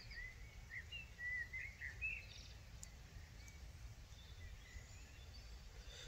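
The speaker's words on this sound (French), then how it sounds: "il y a toute une ribambelle d'oiseaux qu'on entend" Several birds chirp and twitter at a distance outdoors near a small river, faint over a low steady background rumble, with the calls clustered in the first few seconds.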